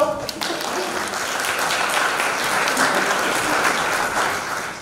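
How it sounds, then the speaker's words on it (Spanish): Audience applause at a pediatric intensive care conference in Santa Fe, a dense burst of clapping sustained for several seconds that tapers near the end. "gracias, un aplauso."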